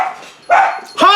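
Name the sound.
dogs barking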